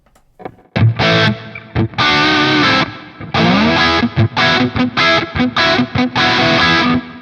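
Distorted electric guitar chords and riffs through a Revv Generator 100 MKIII amp ring out with a spacious reverb tail, played in choppy bursts with short gaps between phrases.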